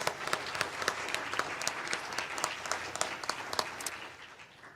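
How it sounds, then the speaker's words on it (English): Audience applause at the Vermont Public Health Association's annual spring meeting, with distinct individual claps standing out from the crowd before the clapping thins and fades. "give another round of applause for all the public health champions"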